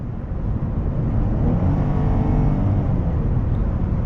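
Constant engine and road roar from inside a 2013 Chrysler 300 Touring with a 305-horsepower engine, accelerating on a sunny road in Turlock, California, loud and unbroken, with no one speaking.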